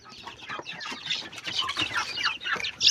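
Backyard chickens, including a brooding hen, clucking close by in rapid overlapping bursts, with a louder squawk near the end.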